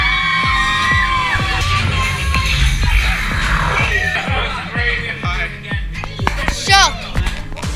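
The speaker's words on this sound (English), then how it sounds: "We're gonna have a scream off." Riders scream and shout together on the Guardians of the Galaxy Mission: Breakout drop-tower ride at Disney California Adventure, a loud crowd of whoops and yells with thumps and bangs beneath, sustained and close.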